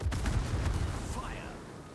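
Main guns of a tier 7 battleship firing in the naval video game World of Warships: a deep, heavy salvo of booms that rolls and fades over about two seconds, with no voices over it.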